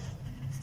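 A brief, close scratch of writing out an answer to a quadratic equation problem, a single short stroke heard alone over a low background hum.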